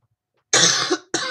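Two sharp coughs from a person, close and loud after a moment of silence, the first longer and rougher, the second a short follow-up burst.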